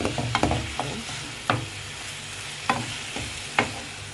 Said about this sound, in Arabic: احنا هنا حطينا اللحمه المفرومه، هنبدا نقلبه.